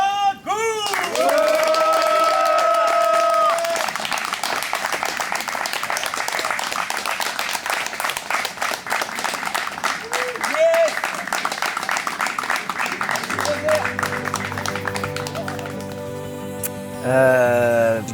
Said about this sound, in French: Un peu d'applaudissements pour Thomas